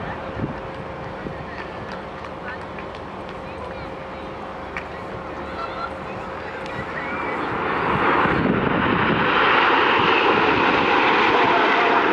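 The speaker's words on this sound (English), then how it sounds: "on the left-hand side, to commemorate 70 years since the Dambusters, this is Lancaster." An Avro Lancaster bomber passing over the RIAT airshow in 2013, its engine drone building from a distant steady hum to a louder, broader roar near the end, mixed with wind and under the voice of an announcer.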